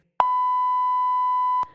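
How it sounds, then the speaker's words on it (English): Answering machine message beep: a single clean, steady electronic tone lasting about one and a half seconds, loud and isolated in silence, starting and ending with sharp clicks. "Please leave a message at the beep."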